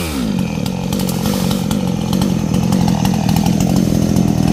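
A chainsaw cuts through kapok and mango trees along a roadside in hot weather, running loud and steady at close range with a continuous buzzing drone and no talk.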